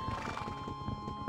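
A horse in Minecraft whinnies in a short, shrill burst, close and clear, with no talking.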